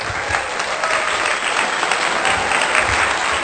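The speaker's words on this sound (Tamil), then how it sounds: "எப்போ கைதட்டணும்னு தெரிஞ்சுக்கிட்டல" A festival audience at Mandaikadu claps together in a sustained, dense burst of applause, loud and even throughout with a faint murmur of the crowd beneath.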